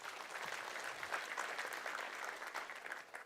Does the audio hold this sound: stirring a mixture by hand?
no